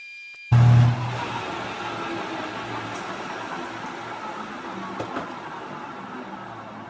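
A milling machine makes a cutting pass with slight chatter: a sharp start, then a steady, moderately loud grinding whir with faint rattling through to the end.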